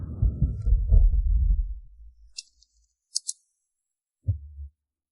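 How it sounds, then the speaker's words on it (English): A loud heartbeat sound effect: a deep, booming throb that fades out, then a few sharp high clicks and one more low thump, each separated by silence. "Secretary Yi, your heartbeat is too loud."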